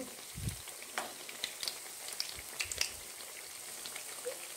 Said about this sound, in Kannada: ಇದು ಫ್ರೈ ಆಗೋದು ತುಂಬ ನಿಧಾನ ಒಂದ್ಸಲಿ ಹಾಕಿದ್ರೆ ನಿಮಗೆ ಒಂದು ಏಳರಿಂದ ಎಂಟು ನಿಮಿಷ ಅಷ್ಟು ಫ್ರೈ ಆಗುತ್ತಿದ್ದು ಮೀಡಿಯಮ್ ಫ್ಲೇಮಲ್ಲಿ ಇಟ್ಕೋಬೇಕಾದ್ರೆ